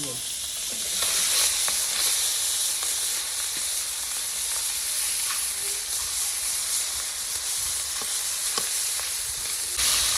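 Small native tengra fish fry in a pan with a steady, close, hissing sizzle that holds evenly throughout, with occasional faint clinks and no talking.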